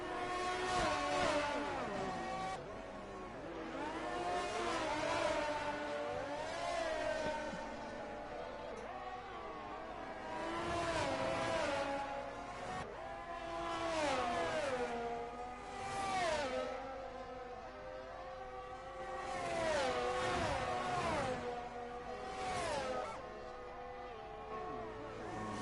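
Formula racing cars, a Ferrari and an Alpine, in a racing video game: layered engine whines rise and fall with gear shifts in repeated waves, moderately loud, with faint commentary underneath.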